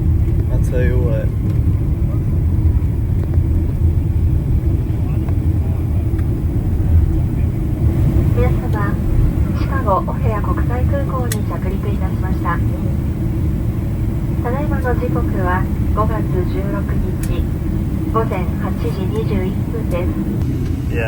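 An ANA Boeing 777-300ER taxiing at O'Hare after a gusty landing, a loud constant cabin rumble and engine drone filling the space, with people talking over it throughout.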